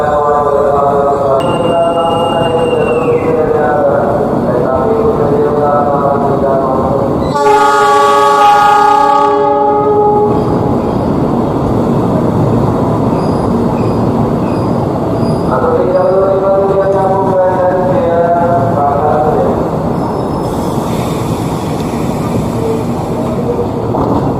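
A passenger train rumbles into a station platform in Jakarta with screeching wheels and a long horn blast, steady loud rolling noise throughout, with station clatter in the background.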